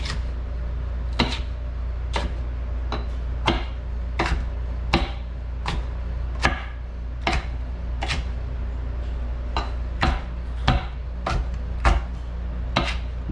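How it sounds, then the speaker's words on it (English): A fairly dull knife cuts sweet potato into strips on a cutting board, sharp evenly spaced chops roughly every half second to second, close and clear over a low steady hum. "Cut this into strips."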